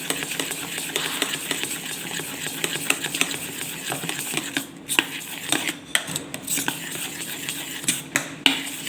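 Dhokla batter being stirred quickly in a bowl after adding Eno, a steady busy scraping and clinking of the spoon against the vessel, with a few sharper knocks throughout.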